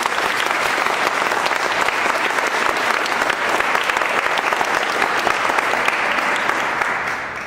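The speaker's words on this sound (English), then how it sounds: "Let's just give another round of applause for the people who brought the film here." Sustained audience applause after a film screening at an International Women's Day event, steady dense clapping from a large crowd filling the room, holding loud throughout before easing slightly at the end.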